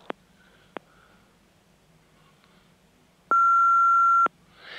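Answering machine beep: a single steady electronic tone lasting about a second, preceded by a couple of faint clicks on an otherwise quiet line.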